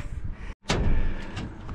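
A heavy wooden door at the Kasbah of Tizougane swings open with a sharp clunk after a brief hush, followed by a scraping, rumbling movement and a few knocks as it settles.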